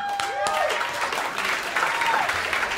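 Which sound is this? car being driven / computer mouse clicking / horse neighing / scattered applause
scattered applause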